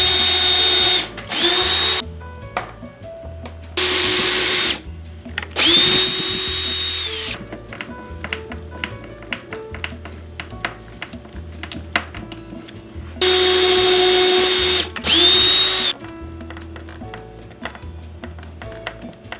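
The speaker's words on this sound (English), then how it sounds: "drilled pilot holes, didn't split the wood or make any mistakes at all" A power drill boring pilot holes into wood while building a homemade vacuum former, heard as several loud, close bursts of whirring motor that stop and start between quieter tapping and handling sounds.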